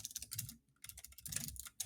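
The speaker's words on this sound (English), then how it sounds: "I'm like typing in front of my microphone here, so my typing is a bit poor" Rapid typing on a computer keyboard close to the microphone, a dense irregular clatter of key presses with brief pauses, no talking.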